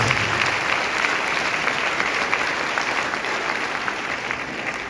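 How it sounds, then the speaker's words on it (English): Audience applauding at an all-district elementary school concert in 2024, a steady, dense crowd clapping that holds at full strength throughout with no gaps. "let's give them a nice big round of applause."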